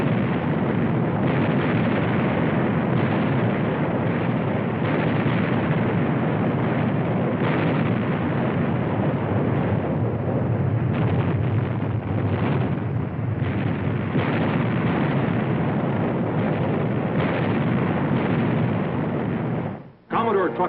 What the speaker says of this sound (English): For 5 hours, she exchanged broadsides with the heavier-gunned Vengeance.